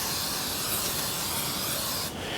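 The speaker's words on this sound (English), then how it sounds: "take our bundt pan and spray it real good inside." Cooking spray hisses steadily inside a bundt pan, a close, continuous aerosol spray that cuts off briefly near the end.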